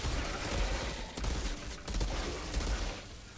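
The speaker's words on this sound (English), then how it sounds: "I'll just use my shotgun to set him up for him" Shotgun blasts in the video game Outriders, a dense run of booming shots and rattling gunfire that keeps going for several seconds, loud and close.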